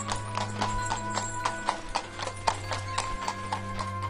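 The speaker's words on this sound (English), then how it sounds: "I could tell by the sound of her feet that she was running on hooves." Hooves running in a steady clip-clop rhythm against a humming background, fairly faint and with no speech.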